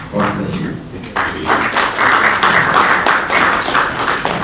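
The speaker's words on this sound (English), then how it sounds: "Let's clap for him again" Workshop audience breaking into applause after a speaker declares a climate change reporting training open, dense close clapping that builds after a brief lull and continues steadily with some knocks and murmured voices.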